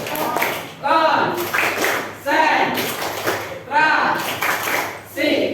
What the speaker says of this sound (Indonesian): Oke, tepuk konsentrasi.